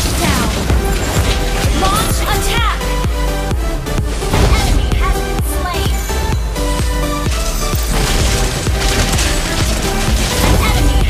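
Mobile Legends battle in a mayhem match, dense continuous game combat with booming impacts, rapid bursts and layered effects, loud throughout with no break.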